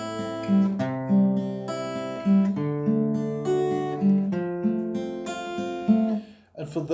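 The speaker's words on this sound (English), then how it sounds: "We're going to do it fingerstyle like this." Acoustic guitar picked fingerstyle playing House of the Rising Sun, arpeggiated notes ringing together in a steady, gentle rolling pattern, close and clear.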